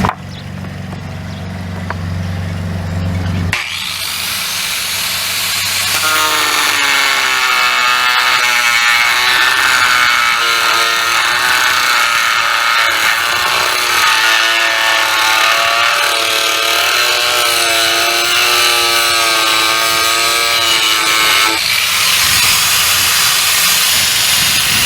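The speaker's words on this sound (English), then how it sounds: "So cutting that to length with an angle grinder to find my mark." An angle grinder spins up and then cuts through a metal spike for a homemade volleyball net post, a loud sustained high-pitched whine with a shifting tone that runs for nearly twenty seconds before cutting off.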